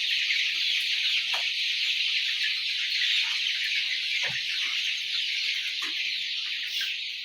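Brown cock chickens on a poultry farm cluck sporadically over a constant high-pitched background hum, a few short calls rising from the flock at irregular intervals.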